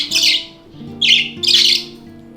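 Several pet budgies squawk and chirp in a small, crowded cage holding six birds, giving three bright bursts of calls with brief pauses between them, close and fairly loud.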